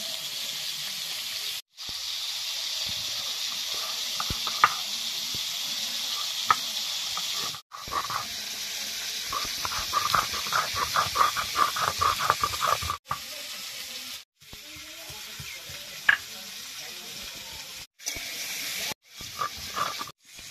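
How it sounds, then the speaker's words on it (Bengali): Pointed gourd (potol) frying in oil gives a steady hiss that cuts off several times, with a run of soft crackles and pops in the middle and no talk over it. "পটলটা ভাজা হতে হতে"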